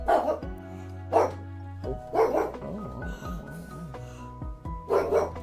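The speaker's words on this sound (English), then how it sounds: "I don't know why Daruk's barking." A dog named Daruk barks indoors in several loud, separate bursts spaced about a second apart, with some whimpering between them under steady game music.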